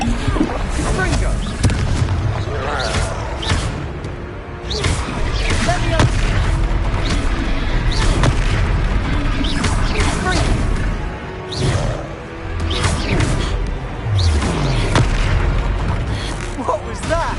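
Blasting spell explosions in the Hogwarts Legacy video game, loud booming blasts and crackling bursts recurring across the stretch over dense rumbling combat noise, with voices calling out amid the action.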